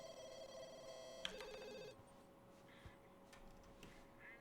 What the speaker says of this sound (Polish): Idź jeszcze, odbierz telefon